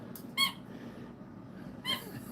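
Dog's squeaky toy giving two short squeaks about a second and a half apart, moderately close, over faint room noise with no talk.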